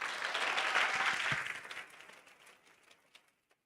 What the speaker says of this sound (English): I think she really does deserve another round of applause